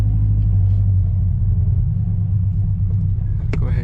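A loud Toyota GR86 sports car engine droning steadily from inside the cabin while the driver practices drifting, a constant deep rumble with a short click near the end.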